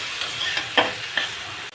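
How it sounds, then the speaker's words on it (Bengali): Ridge gourd frying with potatoes and spices gives a low, steady sizzle close by, broken by a few soft stirring scrapes. "মশলা ভালো করে আলুর সঙ্গে ভাজা হয়ে গেছে, এবারে ঝিঙেগুলো দিয়ে দিলাম"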